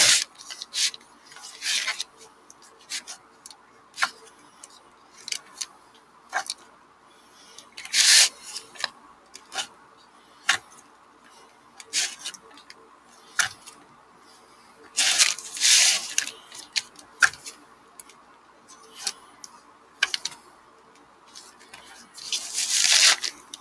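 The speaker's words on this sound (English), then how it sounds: "I'm going to go all the way around and cut out shapes" Soft clay being cut into shapes by hand, with intermittent rasping, scraping and tearing strokes in short bursts and pauses, close and fairly quiet.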